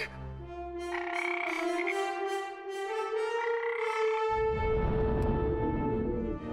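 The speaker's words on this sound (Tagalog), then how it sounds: "Yung palaka nakakawala!" Frog croaking in a TV drama scene, several loud drawn-out croaks close by, followed by a burst of rough noise toward the end.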